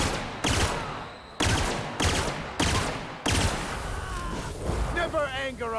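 Gunfire in The Outer Worlds: five loud, close shots fired at about one-second intervals, each a sharp crack with a brief tail, followed by combat noise and a short gruff voice.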